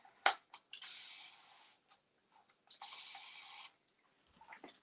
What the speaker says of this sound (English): This is the Mr. bottle by Dixie Belle, actually.